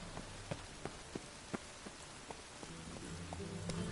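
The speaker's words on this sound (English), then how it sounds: "I wish this rain would stop." Steady rain in The Witcher 3 video game patters on a surface with scattered louder drips landing close by, a constant soft hiss underneath.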